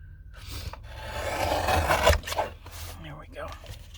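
Trimming a black edge off a paper card for a Halloween raven card, a close rasping cut that builds over a couple of seconds and ends in a sharp snap, with a quiet voice around it.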